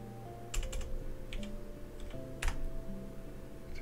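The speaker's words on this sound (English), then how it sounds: "Typing left-handed sucks." Someone types on a computer keyboard, producing short irregular bursts of clicking keystrokes in a few quick clusters over a low steady background hum, with no talk.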